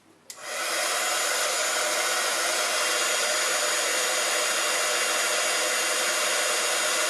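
Heat tool melting embossing powder on a stamped butterfly image for a papercraft calendar: a steady, loud blowing whoosh starts abruptly and runs unbroken to the end, with no talking.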